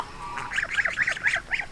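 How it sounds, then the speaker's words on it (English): Chinese crested goslings give a rapid series of high, nasal honks and peeps, close and fairly clear over a quiet background. "behind them are the other three Chinese crested goslings."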